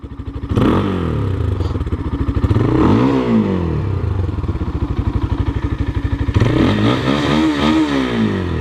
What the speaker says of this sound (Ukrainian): Давайте послухаємо вихлоп, як не як.